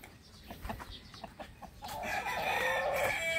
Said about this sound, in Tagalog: Ito isa sa pinakamatandang manok na nandito sa amin.